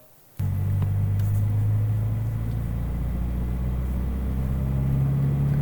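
Car engine and MXP Comp RS exhaust drone steadily at a low, constant cruising rumble at about 2,000 RPM, starting suddenly and holding even throughout.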